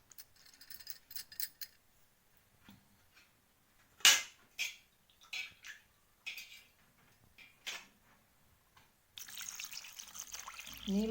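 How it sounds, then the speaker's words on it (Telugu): Water splashes into a bowl of yogurt mixed with green chillies and onion for Telangana-style salla charu, then a spoon stirs it. Short wet clinks and sloshes come in bursts, followed near the end by a steadier pouring rush, close up. "నీళ్ళు పోసుకొని బాగా కలుపుకోవాలి"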